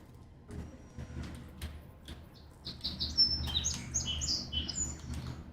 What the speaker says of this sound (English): Birds in space?